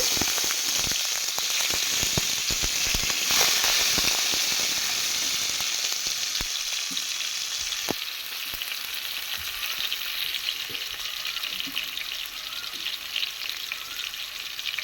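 Loud, steady sizzle of whole garam masala, two dried red chilies and cumin seeds frying in hot oil, with a sharper crackling burst as chopped tomato drops in, then a continuous bubbling fry with scattered pops.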